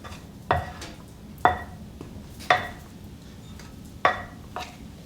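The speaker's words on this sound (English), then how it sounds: "Again, mix until combined." Gingerbread batter gets mixed in a bowl, and the utensil knocks against the bowl's side in five sharp, evenly spaced clacks about a second apart over a quiet room background.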